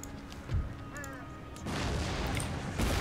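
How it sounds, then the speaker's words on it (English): Cannons fire in an Empire Total War battle against Prussian troops, with two heavy booms a couple of seconds apart over a low rumbling battlefield backdrop. "So a cannon shot knocked out their general."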